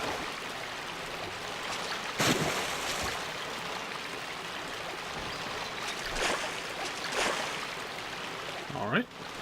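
Steady rushing water from a small waterfall in the video game Monster Hunter Portable 3rd. It holds as a broad, constant wash throughout, with a few brief louder splashes and a short rising chirp near the end.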